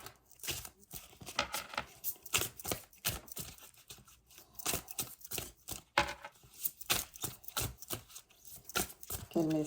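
Oracle cards being shuffled by hand, a rapid irregular series of crisp papery slaps and riffles, close and fairly loud, with short pauses between bursts and no talk.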